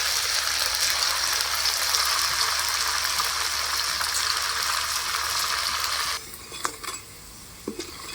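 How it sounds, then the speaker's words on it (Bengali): Raw banana pakoras frying in oil produce a loud, dense sizzle for about six seconds, then it drops to a quieter bubbling with a few utensil clinks; no speech. "একইভাবে আমি সব পকোড়াগুলো কিন্তু তেলের মধ্যে দিয়ে ভেজে নেবো"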